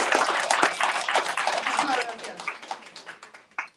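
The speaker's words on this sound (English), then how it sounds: "let's give our champions a big round of applause" A crowd at a celebration of a youth transit pass milestone gives champions a round of applause, energetic clapping that thins out toward the end with scattered last claps.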